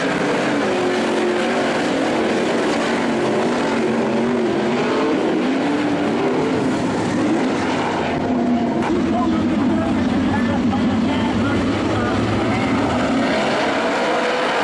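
World of Outlaws sprint cars race on Skagit Speedway in a heat, a continuous loud engine roar that stays steady throughout, with a commentator talking over it.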